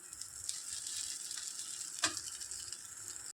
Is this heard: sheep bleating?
no